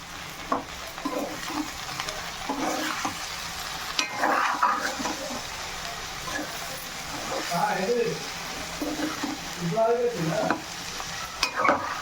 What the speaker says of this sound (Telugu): ఇట్లా కలిపేసుకోవాలి మళ్ళీ ఒక ఫైవ్ మినిట్స్ తర్వాత ఒకసారి ఇట్లా కలుపుకోవాలి